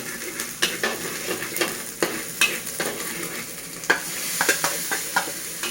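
Stir-frying frog in an iron wok over high flame: a steady sizzle broken by sharp scraping and clanking strokes of a utensil against metal at an uneven rhythm, close up.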